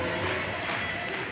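A dense crowd roars and cheers at a Winona State game, a broad, steady wash of voices with no pauses or single standouts.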